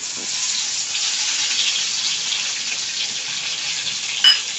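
A steady, loud hiss of curry leaves crackling in hot oil with mustard seeds fills the moment, with a brief sharper spatter just before it ends.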